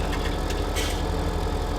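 A tractor engine idling steadily in Farming Simulator 17, a close, even low rumble running unbroken and alone for a couple of seconds.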